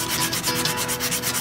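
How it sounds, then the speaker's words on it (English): Rhythmic back-and-forth sanding on a red oak wand, a close, steady rasping scrub repeating about every tenth of a second with no pauses. "I'll sand them a little bit smoother"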